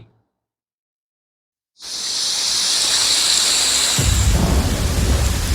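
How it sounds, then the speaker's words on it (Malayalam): After a moment of silence, heavy rain hisses in suddenly and steadily, then a deep roll of thunder rumbles underneath the downpour. "മഴ."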